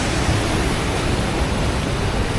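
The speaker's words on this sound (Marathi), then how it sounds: "वरतून डॅमचं पाणी येते आणि तिकडे सुद्धा एक छोटासा धबधबा आहे." Dam water rushing down over a small waterfall in rainy-season Konkan at Veravli, a dense, loud, even roar of pouring water with no pauses.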